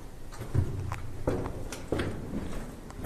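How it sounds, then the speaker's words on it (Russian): Footsteps echo through an abandoned bunker in a game setting, a few distinct, moderately near steps spaced unevenly over low background rumble, quiet overall and without speech. "Шаги, я слышу чьи-то шаги."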